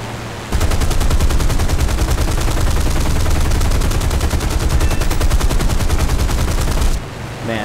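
In the War Thunder flight game, a Griffon-engined Spitfire F Mk XIV in realistic mode fires its machine guns at a B-17 bomber: one loud, unbroken, rapid rattling burst of about six seconds, then quiet.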